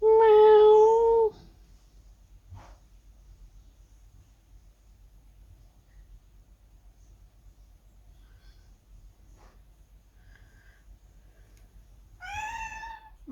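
A cat meows twice, a loud drawn-out meow at the start and another near the end, with quiet room tone between.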